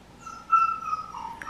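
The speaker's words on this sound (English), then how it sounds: "You'll hear the dog in the background." A dog locked up indoors whimpers in the background, a thin high whine rising and fading over a second or so, faint and distant with no voices.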